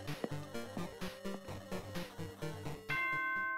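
A bell chime from the video game Danganronpa 2 (Goodbye Despair) plays as a rhythmic melodic sequence of tonal hits over a musical backing, ending in a sustained ringing tone, loud and alone without talk.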